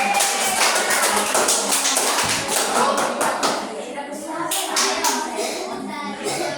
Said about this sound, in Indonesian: tepuk tangan biar semangat kelompok 2 ya